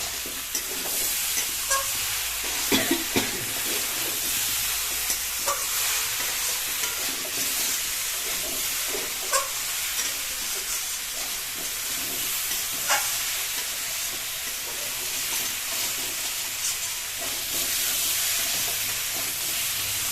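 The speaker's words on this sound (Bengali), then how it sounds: "আমরা মোটামুটি এটাকে একটু কষিয়ে নেবো মাংসের মতো" Bottle gourd curry with lentil dumplings sizzles and fries in a pan, with steady hissing and occasional sharp scraping stirs, close and moderately loud.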